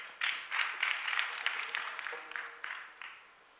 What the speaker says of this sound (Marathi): ज्यांनी सेवा केली एकदा जोरदार टाळ्या वाजवा